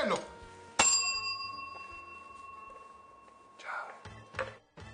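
A small hand bell is struck once, its bright ringing tone sustaining and slowly fading over a few seconds in an Italian kitchen setting, with brief voices and handling noises toward the end.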